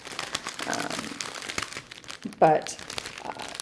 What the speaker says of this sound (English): I apologize for the crinkling because I forgot to take it out of the bag first